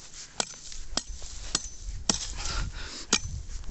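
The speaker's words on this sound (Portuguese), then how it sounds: "Vamos cavar aqui para ver o que nós encontramos" A hand tool digging into dry scrubland ground, with sharp scraping strikes roughly every half second to second over rustling soil and brush, close and fairly loud, with no talk.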